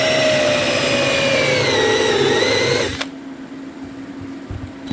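A power drill bores a hole through the thick material of a brand new 12v ATV sprayer, a loud steady whine with shifting pitch that stops abruptly near the end, leaving quieter background noise.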